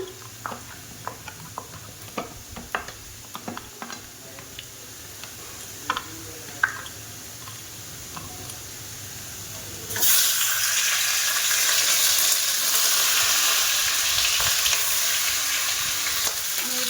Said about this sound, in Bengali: সর্ষের তেল দিয়ে আমি মাছের মাথাটা ভেজে তুলে নেব